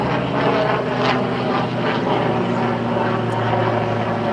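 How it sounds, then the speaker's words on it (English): An airplane flies overhead, producing a steady, loud engine drone with a broad roar that stays constant throughout, with no voices. "I hear an airplane overhead."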